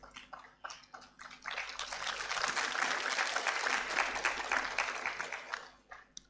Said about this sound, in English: the applause is all right, so you can keep it coming.